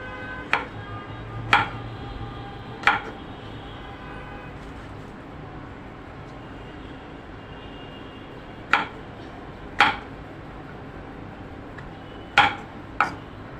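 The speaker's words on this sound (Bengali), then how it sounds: "সবগুলো পটলে কিন্তু আমি লম্বালম্বিভাবে কেটে নিচ্ছি।" A knife cuts pointed gourds (potol) lengthwise on a board, giving about seven sharp, close taps in small clusters with a long pause between them, over a faint steady background hum and no speech.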